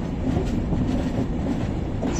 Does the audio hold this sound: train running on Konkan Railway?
yes